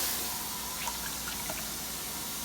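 Water running into a pot to cook rice for chicken fried rice, a steady broadband stream with faint splashes and drips throughout, close by and alone.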